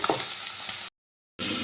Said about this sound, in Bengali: এবার আমি এই পুঁটি মাছগুলো ভালো করে উল্টে পাল্টে ভেজে নেব।